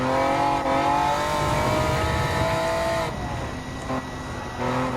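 A 2002 Honda NSX Type R driven in Gran Turismo 7 on the Nürburgring Nordschleife, its engine note loud and continuous, holding high revs before dropping and climbing again, no talk over it.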